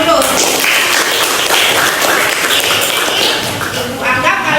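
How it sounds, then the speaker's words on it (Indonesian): Classroom applause during a biology lesson on mutation at Universitas Tadulako, Palu: dense, steady clapping from a group of students lasting several seconds, with voices mixed in. "beri tepuk tangan dulu"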